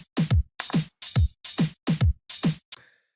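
A steady drum groove accented on the upbeats, paired hits of a bright crack followed by a low thump, repeating evenly about six times, with a short cymbal-like tail.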